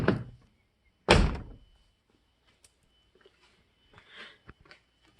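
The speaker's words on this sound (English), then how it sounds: "Open the door." Two heavy thuds of a GM car door, the second louder, followed by quiet faint clicks and rustles in a still space.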